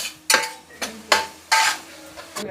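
Spoon stirring chopped onion pieces frying in a pan, several sharp scraping strokes at an uneven rhythm, close and fairly loud, with faint sizzle between strokes.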